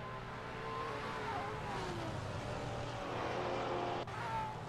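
A Porsche GT4 race car in a sim racing game at VIR, its engine a steady high-revving drone with rising and falling gear pitches, moderately loud with a brief tire scrub near the end.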